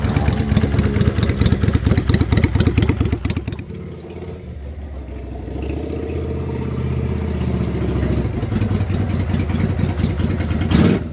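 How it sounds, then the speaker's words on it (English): A Yamaha Virago XV535 motorcycle engine with a homemade pod air filter runs steadily up close, loud at first, dipping briefly, then rising to a firm revving idle. "Carburettor seems to be running absolutely fine."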